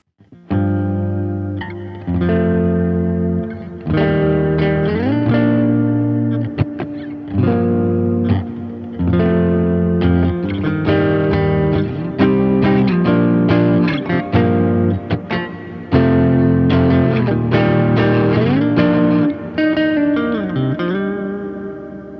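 Electric guitar played through an Illumine effects pedal with tremolo and reverb, sustained chords and ringing notes in an ambient post-rock style, loud and continuous with washy reverberant tails.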